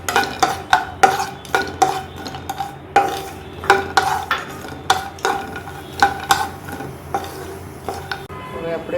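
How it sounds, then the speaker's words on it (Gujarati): Peanuts and cashews are stirred and roasted in ghee in a pan while vermicelli upma is being made: steady, rhythmic scraping and clinking of a spoon against the pan, close and fairly loud, with no talk. "એમાં ગરમ થાય એટલે સિંગદાણા અને કાજુ બે શેકી લઈશું."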